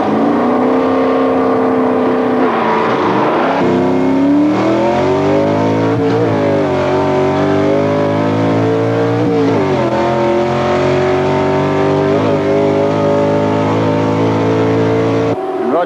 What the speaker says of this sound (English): Shadforth going through for the win that time in his 351 Ford.